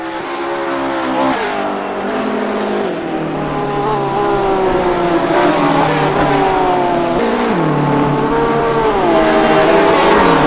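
GT race cars, including a Porsche, race at Virginia International Raceway. Loud, close engines roar continuously, their pitch climbing and dropping through gear changes, with several cars layered together for about ten seconds.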